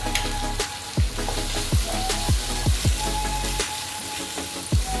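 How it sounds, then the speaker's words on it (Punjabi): Ground onion fries in hot oil with cumin in a pan for dhaba-style palak paneer. A steady, close sizzle is broken by about eight sharp stirring scrapes, with no talking. "ਇਹਦੇ ਵਿੱਚ ਪਾਵਾਂਗੇ ਪਿਆਜ਼ ਗ੍ਰਾਈਂਡ ਕਰੇ ਹੋਏ"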